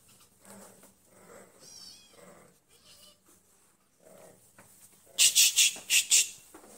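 Cats, one of them a kitten, meow in a quick series of five loud, high-pitched cries near the end, after softer scattered rustling and faint noises.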